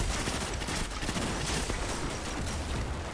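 Rapid, continuous turret gunfire in the Destiny 2 video game during a Master Nightfall mission, a dense unbroken stream of loud shots filling the whole stretch with no voice over it.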